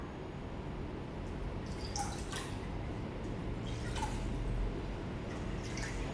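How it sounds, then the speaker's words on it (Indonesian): Warm bathwater scooped and poured over a baby's face and head during a bath: soft splashing and dripping trickles over a steady watery background, with a few brief brighter splashes. "Kita siram mulai dari wajah, kemudian di bagian kepala"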